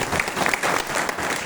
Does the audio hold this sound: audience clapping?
yes